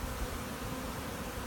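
Honeybees in an open hive give a soft, continuous buzzing hum, faint and steady with no break.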